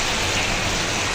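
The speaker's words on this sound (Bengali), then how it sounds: "এখন আমি জল দিয়ে দেবো।" Water poured into a pan of frying fish curry makes a loud, steady rushing hiss with no break across the short stretch.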